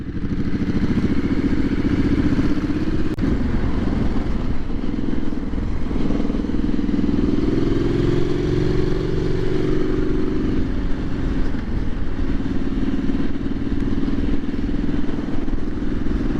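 A Triumph SS 900 motorcycle cruising in third gear at about 20 mph, giving a steady, loud, low engine drone with constant wind rumble throughout and no pauses.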